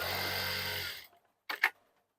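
A sewing machine stitching a shirt pleat runs with a steady motorized whir for about a second, then stops, followed by two quick mechanical clicks in the quiet.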